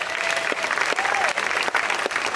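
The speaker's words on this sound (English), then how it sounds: "Big round of applause" A big round of applause at a 90-year alumni ceremony, many hands clapping close and loud in a dense, uneven patter, with a faint voice briefly audible within it.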